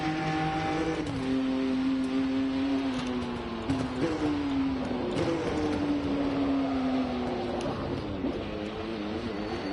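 A BMW M2 race car in a racing video game at Jeddah, engine droning at sustained high revs with a few quick dips and recoveries from gear changes, loud and continuous throughout.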